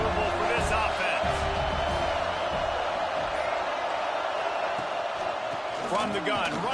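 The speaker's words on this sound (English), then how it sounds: "This crowd trying to make life miserable for this offense." A stadium crowd at a Michigan vs USC college football game roars steadily, a dense, loud wash of noise that barely rises or falls across the whole stretch.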